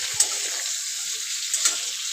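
Pointed gourd (potol) pieces frying in hot oil in a kadai, a steady soft sizzle with brief clinks and splashes as the pieces are lifted out.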